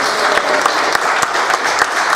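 An audience applauds at a wrestling show: a dense, even patter of clapping with scattered sharper claps, sustained at moderate loudness throughout.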